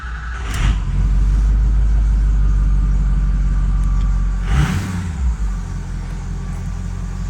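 A Ford 6.0 diesel engine runs with a loud, steady low rumble, rising briefly as it revs, then settles back to a steady idle.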